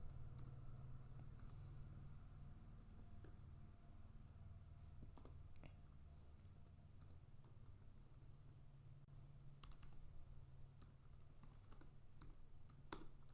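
Someone types a command on a computer keyboard, scattered soft key clicks at irregular intervals over a constant low hum, quiet and close.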